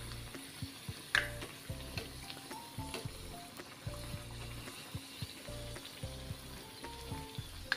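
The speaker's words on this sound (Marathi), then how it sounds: "आपल्याला पुऱ्या तळताना पातेल्यामध्ये तळाव्या लागतील" Puris fry in hot oil in a deep pot, giving a continuous bubbling sizzle with small crackles and occasional sharper pops, steady and close.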